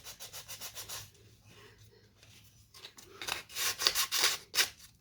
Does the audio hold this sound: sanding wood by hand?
yes